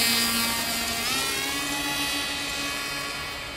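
A hand-launched camera plane flying overhead, its electric motor giving a steady, loud buzzing whine that shifts slightly in pitch and slowly fades as it climbs away, with wind noise underneath and no talking.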